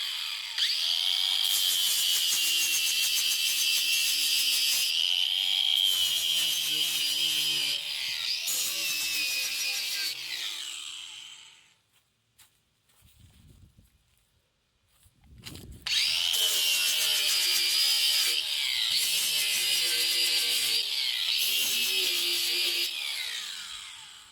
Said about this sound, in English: I'm going to take this flap wheel disc here and dress up the area there